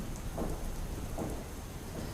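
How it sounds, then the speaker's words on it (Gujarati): Rain pours over Ahmedabad city during a thunderstorm, a dense, even wash of noise with a low rumbling undertone throughout the short stretch, no voices. "અમદાવાદ શહેરમાં તેમજ ગાંધીનગર શહેરમાં પણ વરસાદી માહોલ જામ્યો છે"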